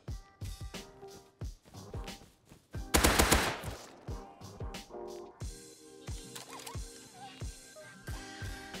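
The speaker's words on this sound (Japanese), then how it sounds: "炸裂弾撃ってんな。" Explosive rounds fired in the video game Rust, a rapid series of sharp gunshot cracks with one dense, louder burst near the middle, repeating steadily throughout at moderate distance without talk.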